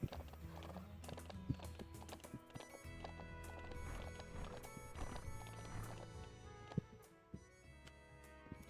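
Horse hooves clip-clop steadily in the video game Ranch of Rivershine, with an occasional whinny and faint liquid-like game sounds; no one speaks.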